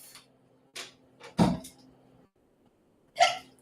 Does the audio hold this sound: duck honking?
no